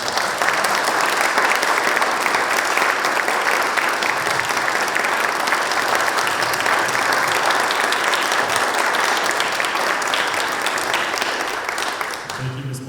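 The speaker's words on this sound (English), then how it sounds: "let us give you a round of applause" An audience in a school hall of fame ceremony applauds the inductees, sustained dense clapping that holds steady for about twelve seconds before tapering off near the end.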